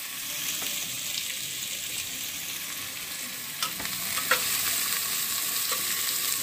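Onions and garlic sizzle in a pan with a steady crackling hiss, punctuated by a few sharp pops and stirring clicks, close and even, with no voices.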